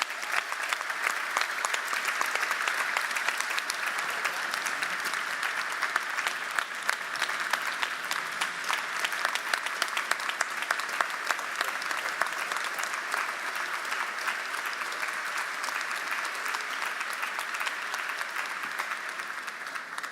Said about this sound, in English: let's give Coach Williams a round of applause for all of his accomplishments